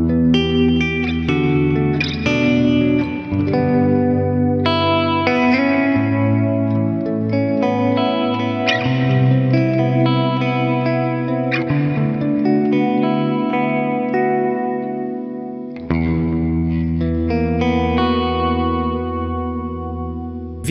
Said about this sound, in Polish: Czy próbowaliście kiedyś wibrować dźwiękiem gitary za pomocą gryfu?